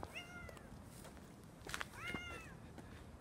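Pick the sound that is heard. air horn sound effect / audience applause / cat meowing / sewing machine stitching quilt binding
cat meowing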